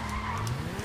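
Car skidding and spinning out in GTA 5 Online, a loud sustained tire squeal over steady engine drone, close and without talk.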